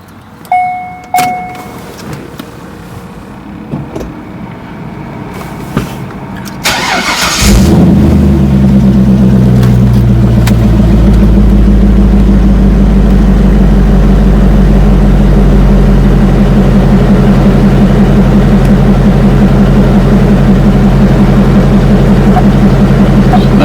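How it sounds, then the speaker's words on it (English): A Corvette engine cranks after a few faint clicks and clunks, catches loudly, and settles into a strong, steady rumbling idle that carries on close and unbroken for the rest of the clip. "So I'm about to crank it up, and let's see if this thing is ready to rock."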